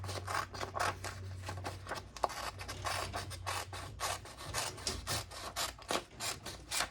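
Scissors trim paper for a notebook at close range, giving repeated soft snipping and rubbing strokes in an uneven rhythm over a low background hum.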